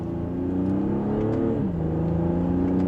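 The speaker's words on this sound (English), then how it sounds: "we'll do that same acceleration just to hear the differences" A 2025 BMW X4 M40i in comfort mode accelerating gently, a smooth moderate engine and exhaust hum heard from inside the cabin, pitch climbing and then dropping as it shifts gear, no talking.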